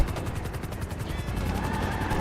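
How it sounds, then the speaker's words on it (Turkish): Helicopter in the video game GTA 5, a rapid rhythmic rotor chop that pulses steadily all the way through, loud and close, with a dense rattling texture. "Allah Allah helikopter geldi."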